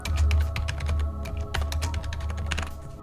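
Rapid keystrokes on a computer keyboard, a dense run of close clicks and taps over three seconds as a code is entered while holding a modifier key, steady and fairly quiet with a low hum underneath and no voices.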